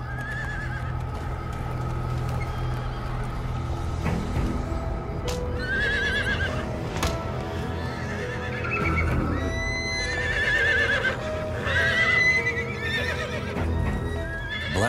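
A spooked prized mare neighs and whinnies repeatedly, loud and close, over a steady rumble of hooves clip-clopping amid a livestock breakout, with no talking.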